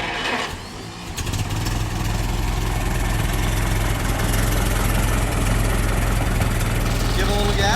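A 1922 Ford Model T engine of about 40 horsepower cranks and catches after a second, then settles into a loud, steady, low, chugging idle, with a person talking nearby.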